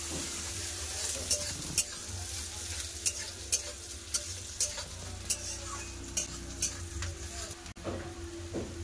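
Ginger garlic paste sizzles and fries in a pan while whole garam masala spices are stirred through it, giving a steady close sizzle with regular scraping clicks from the spoon throughout.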